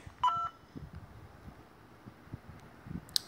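Touch-tone phone dialing in the video game Whack your Computer: a short burst of clear, close dialing beeps, followed by faint rustling and a brief high chirp at the end.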